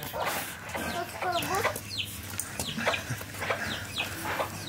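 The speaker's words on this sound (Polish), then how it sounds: "Co to za górskie kury?" Chickens in a foggy mountain setting beside a hut clinging to rocks cluck in a busy, overlapping flock, with steady clucks and short squawks close by throughout, alone without talk.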